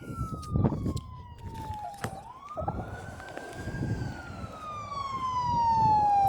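An ambulance siren passes along Highway 98, its wailing tone sliding down, then up, then down again as the vehicle goes by, with traffic rumble and a few knocks and thumps around it.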